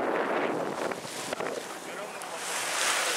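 Yacht under way off Budva, Montenegro, near Sveti Nikola island, with wind buffeting the microphone and water rushing along the hull, a steady broadband roar that swells again toward the end.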